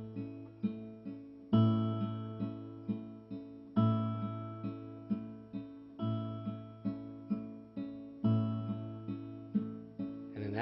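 A guitar is finger-picked, the thumb and third finger striking together and then alternating first and second finger notes, in a steady repeating pattern played alone with no talking.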